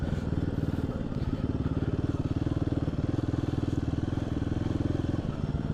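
An adventure motorcycle rides over rough, rocky ground, its engine thrumming in a steady low pulsing beat close by, with light rattles and scrapes from the terrain over the engine note.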